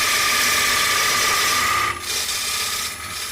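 A gouge cuts a wooden bowl on a woodturning lathe with a loud continuous rushing scrape, breaking off briefly partway through, then resuming more faintly in short passes.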